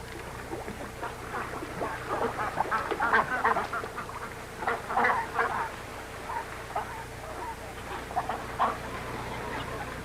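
Ducks quack along a riverbank, a loose scatter of nasal calls rising in bursts over steady outdoor background noise.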